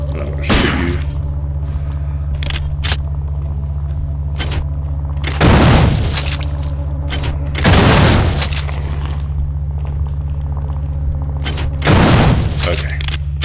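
Gunfire in System Shock 2, set aboard a spaceship among crew accommodation rooms: three loud booming shots land several seconds apart over a steady low mechanical hum, with a few fainter thumps early on.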